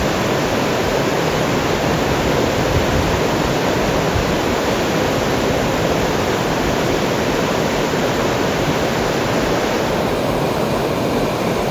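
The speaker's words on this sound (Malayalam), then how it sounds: "ഈ വരുന്ന വഴി കാണുന്ന നല്ല അടിപൊളി ഒരു അരുവിയാണ് കേട്ടോ" Near the trail to a waterfall, a mountain stream rushes in a dense, loud, unbroken roar that holds steady for the whole stretch, with no voices.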